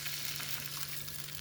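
Sweet corn frying in a hot pan sizzles steadily and loudly as water is poured in, a continuous hiss with a faint low hum beneath it and no voices.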